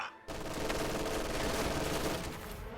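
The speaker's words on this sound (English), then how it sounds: "MG42 moves up to fire on the riflemen in that house" MG42 machine gun fire in a World War II strategy video game, a sustained loud rattling burst that starts abruptly and runs nearly unbroken for a few seconds.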